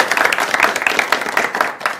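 Studio audience of school students from an Islamic high school claps together during a live religious broadcast, a dense, steady patter of many hands lasting a couple of seconds, fairly close and lively.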